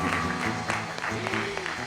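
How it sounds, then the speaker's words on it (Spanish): Rhythmic group clapping at a church youth meeting, loud and close, mixed with voices and musical tones. "Y aplaudir así es la que va."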